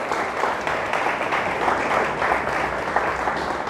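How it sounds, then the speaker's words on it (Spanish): Steady applause from a church congregation during a Spanish-language sermon, dense hand claps filling the space evenly and moderately loud, with no speech over it. "Dele fuerte el aplauso a Dios"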